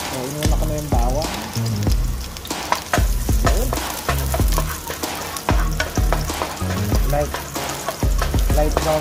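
Garlic frying in a pan with a loud, crackling sizzle broken up by frequent rhythmic scraping and clacking of a utensil stirring it, steady and close throughout.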